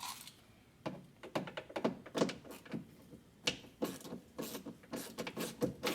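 Torque bolts being undone on the rear door of a VW Jetta: a series of irregular clicks, ratcheting bursts and metallic clunks, close and moderately loud, with short pauses between them.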